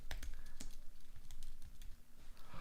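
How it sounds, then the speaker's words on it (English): Quick, close clatter of keys on a computer keyboard, with bursts of typing separated by short pauses and no voices. "I can never type on stream for some reason."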